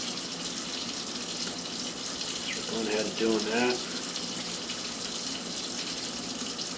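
Water runs steadily from a sink faucet during a hand-washing procedure, a constant hiss under a person briefly speaking.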